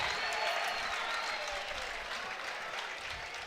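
Craigieburn supporters cheer and applaud a free kick at a local football grand final, a loud, dense wash of crowd noise that holds steady for a few seconds before easing slightly.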